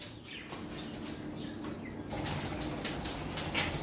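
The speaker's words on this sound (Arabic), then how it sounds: "هذه الحمام هم طارت." Pigeons take off in a burst of flapping wings at an outdoor bird enclosure, soft quick fluttering close by with faint chirps and coos in the background.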